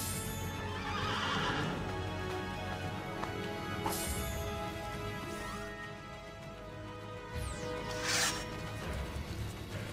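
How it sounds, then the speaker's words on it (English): A horse whinnies several times over a busy Assassin's Creed Brotherhood game soundscape, with clip-clopping hooves, rustling and a sharp crash near the end. "Faster to travel by horse."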